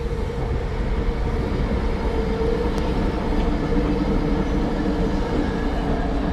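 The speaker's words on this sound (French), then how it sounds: "Il y a les trains, il y a la ligne de train aérien ici." An elevated urban rail line runs close by in a Canadian city in winter, giving a steady, loud rumble of train noise that fills the clip without breaks or voices.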